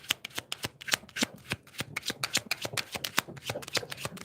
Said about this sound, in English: I'm going to have to shuffle this way